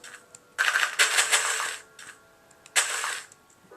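Keys clacking on a Dell Precision M4400 laptop keyboard in short, slow bursts with pauses between them, close and fairly quiet.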